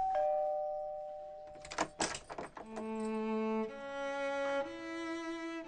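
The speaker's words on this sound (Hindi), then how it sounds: "मेरे सामने तुम्हारे घर की डोरबेल है।" House doorbell chime: a few clear melodic tones, a short burst of knocking or clatter in the middle, then a descending series of sustained ringing notes that fade out.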